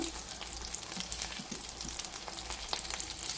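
Jowar, oats and potato nuggets crackle and sizzle softly as they roast over a low flame, a continuous faint frying hiss with small pops and no talking.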